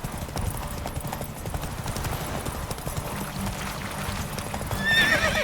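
Horse hooves clip-clop at a steady gallop in The Witcher 3 game, with a whinny rising near the end as the pace and loudness pick up.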